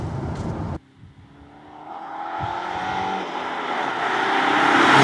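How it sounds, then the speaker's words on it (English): A Saab 900 T16 turbo convertible's exhaust drones and builds steadily after a brief lull, rising in pitch and loudness as it accelerates. "you still have that characteristic engine over gearbox exhaust note"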